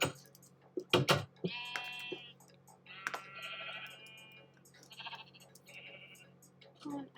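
Blocky sheep in Minecraft give several short nasal bleats spread across a few seconds, separated by sharp clicks and game sounds, with a low steady hum beneath.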